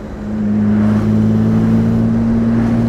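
1959 Jaguar SS 100 recreation car engine running smoothly, a loud, constant low hum with a steady tonal drone and light wind noise throughout, no speech.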